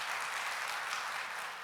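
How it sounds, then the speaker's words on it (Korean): A church congregation at a Friday prayer meeting gives a high school youth group a round of applause, a steady wash of many hands clapping, moderately distant and without voices. "고등부 박수 한번 주십시오."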